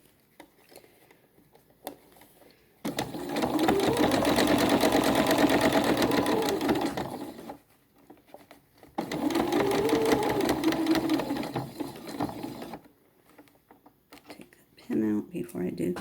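A sewing machine stitches a drawstring bag in two long sustained runs of rapid, even needle chatter with quiet pauses between, close and clear, and a brief handling noise at the end.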